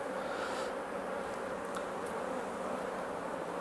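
Honey bees swarm around a hive frame of stores during a late July inspection in Norfolk, a dense, steady buzzing hum that stays close and continuous throughout with no talking.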